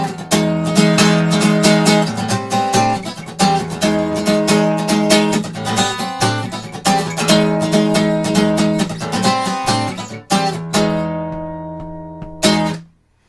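Acoustic or electric guitar strumming the first chorus of a song, played alone, with steady rhythmic chord strokes that ring out and end on a final struck chord.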